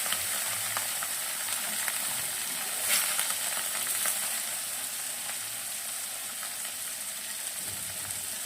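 Fish pieces frying in a pan of hot oil, a steady dense sizzle that holds evenly throughout, with a brief swell of crackle near the middle.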